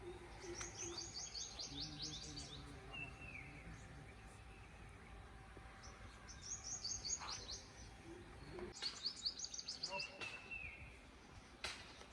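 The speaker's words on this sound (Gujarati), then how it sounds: "તેમાં પક્ષીઓ માળો કરે છે" Birds chirping and tweeting in short bursts, fairly faint and spread out over a steady outdoor hum with some distant background noise, near the Narmada River at a Hanuman temple in Bharuch.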